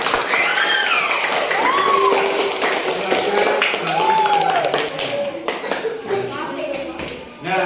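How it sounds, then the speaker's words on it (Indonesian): Classmates clapping for their peers in a classroom, uneven patters and taps mixed with children's voices and a whistled or sung tone, the noise fading near the end. "Beri tepuk tangan untuk teman-teman."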